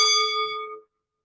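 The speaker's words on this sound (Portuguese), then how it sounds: "Esse é um sino, gente, ó." A small bell is struck once, giving a clear, bright ringing tone with distinct overtones that fades away within about a second, followed by silence.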